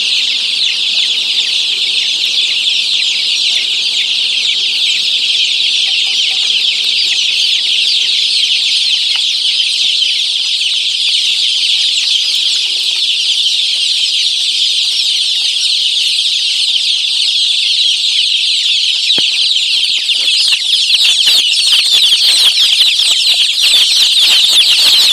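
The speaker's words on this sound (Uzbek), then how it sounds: "Video so'ngida mana shu inkubatordan ochib chiqqan jo'jalarni ko'rishingiz mumkin." Young chicks freshly hatched from an incubator peep continuously in a loud, dense chorus close by, with occasional louder cheeps and flutters near the end.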